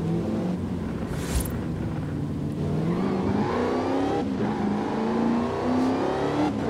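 A flip-car build tuned in Forza Horizon 5, its engine revving and pulling hard under steady acceleration, the pitch climbing through gears as a loud, continuous roar.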